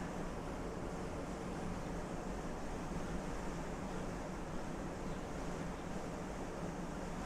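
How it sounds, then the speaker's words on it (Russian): Water pours continuously into a large water storage tank at a building development in Spain, making an even, unbroken rushing hiss with no pauses or changes in loudness. "Слышите, как вода падает?"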